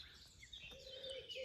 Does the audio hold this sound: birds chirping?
yes